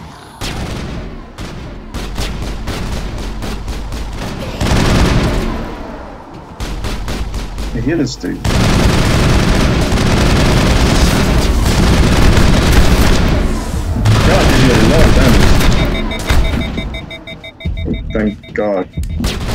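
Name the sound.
gunfire in Mass Effect video game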